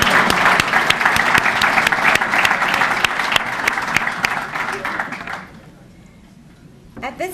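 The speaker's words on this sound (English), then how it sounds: "Give our keynote speaker another round of applause." A hall audience at an anniversary ceremony applauds a keynote speaker with dense, loud, sustained clapping that fades out over a few seconds into quiet, and then a voice begins speaking.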